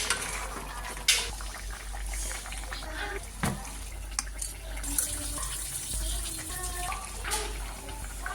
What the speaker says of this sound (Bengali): একটু পরিমাণ জল দিয়ে দিলাম